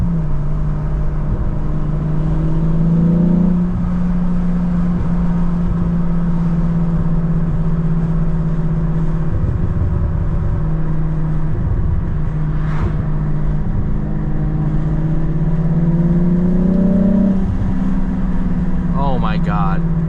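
A 1994 Volkswagen Corrado SLC VR6 drives along with a steady engine drone that climbs in pitch under acceleration and eases off, heard from inside the cabin over a low road rumble, with a brief voice near the end.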